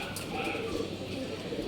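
Racing pigeons softly cooing in a loft, low murmuring calls blended into steady background noise, fairly faint.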